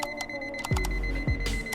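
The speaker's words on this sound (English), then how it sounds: "The alarm is on." A home security alarm sounds during a break-in, a steady electronic tone holding under repeated beeping pulses and low descending swoops, loud and close with no talking.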